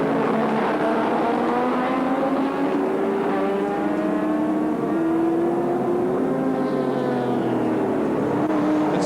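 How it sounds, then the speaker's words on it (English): Group C touring race cars, including a light Mazda on soft compound tyres, race at Sandown Raceway in 1984, engines droning and shifting pitch steadily as cars pass, loud and continuous with no talk. "Can this car, a little light Mazda on soft compound tyres, make any ground on the heavier cars that don't point quite so well"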